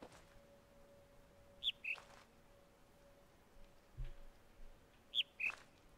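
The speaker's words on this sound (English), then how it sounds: "Oh, that's a fake bird. That's just a speaker." A fake bird call plays from a loudspeaker in two short paired chirps, spaced a few seconds apart, faint over a quiet background with a steady low hum.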